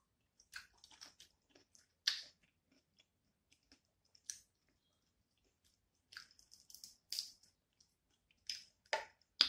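Crunchy chewing of crispy rotisserie chicken skin, close up, in several sharp crackling bites separated by quiet pauses.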